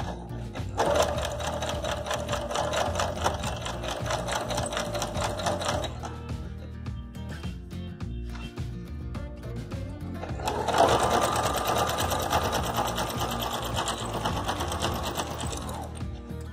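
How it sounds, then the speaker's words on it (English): A sewing machine stitches old jeans in two long rapid runs of even mechanical clatter, separated by a brief pause with softer clicks, close and steady throughout. "We'll stitch it on the same line."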